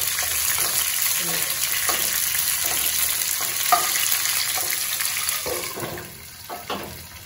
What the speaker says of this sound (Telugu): ఇలాగా పండుమిర్చి అనేది వేసేసుకున్నాం. వేగిపోయిందేమో చూద్దాం.